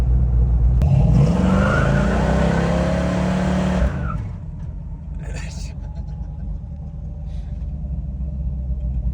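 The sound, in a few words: 1970 Dodge Challenger R/T doing a burnout in the driveway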